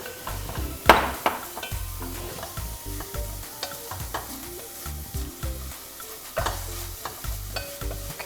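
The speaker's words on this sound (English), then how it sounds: "And then we give it a good stir. You leave it to sizzle and fry for about 3 minutes." Flaked tuna frying in a pot with a steady, crackling sizzle, broken up by repeated scraping and clinking as a utensil stirs it against the metal, close and fairly loud with no voices.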